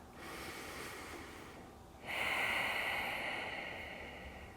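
Two long breaths during a yoga pose in a beginner King Pigeon Pose session, a soft airy inhale followed by a louder, hissing exhale, close and alone.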